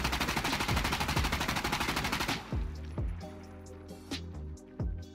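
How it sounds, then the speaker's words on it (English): A QBZ rifle in a video game recoil test fires in one rapid, loud, continuous automatic burst, followed by echoing tails and a few scattered later shots. "we're going to shoot the QBZ in 3"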